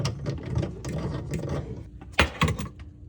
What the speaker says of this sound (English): We're gonna thread this on and tighten it.